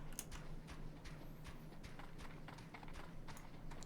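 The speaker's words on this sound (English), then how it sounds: "A Leviathan horse." Horse hooves clip-clop steadily on the ground in the video game Final Fantasy XIV, a Leviathan mount, with a quiet musical bed and no talking.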